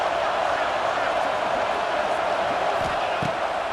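A stadium crowd at a Notre Dame versus Michigan college football game roars continuously in a dense, loud, unbroken wall of cheering during a third-down red-zone play.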